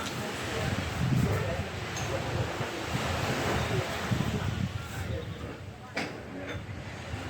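Ocean surf rolling in at a beach in Rawai, Phuket, a steady broadband wash of breaking waves with wind buffeting the microphone, continuous and fairly loud throughout.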